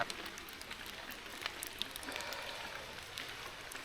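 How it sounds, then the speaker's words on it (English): Rain falls steadily outdoors at a homestead, a faint, even patter with scattered sharper drops and no voices. "obviously out here in the rain"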